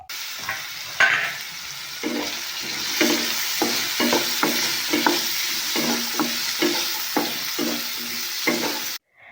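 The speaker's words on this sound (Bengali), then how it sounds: "ওই আলুগুলো আমি এখন একটু ভাজা করে নিচ্ছি নুন হলুদ দিয়ে।" Boiled potatoes fry with salt and turmeric in a pan, a steady sizzle running throughout under a regular rhythm of spatula scrapes and stirring knocks, close and fairly loud, ending abruptly.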